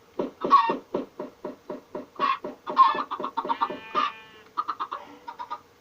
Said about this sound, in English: now I've got a whole bunch of chickens working all that though